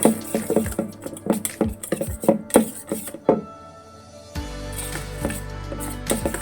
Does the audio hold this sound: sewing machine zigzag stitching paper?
no